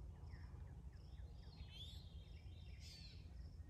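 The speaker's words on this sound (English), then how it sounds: "There's a catbird meowing." Faint, scattered bird calls, including a short mewing note from a gray catbird, over steady low background noise and insect hum in a quiet outdoor evening.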